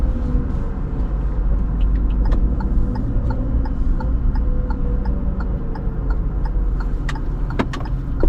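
A car pulling away to park near a driving exam route in Bemowo, heard from inside as a steady low engine and road rumble with faint ticking, constant and fairly loud throughout.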